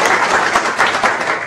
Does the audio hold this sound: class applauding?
yes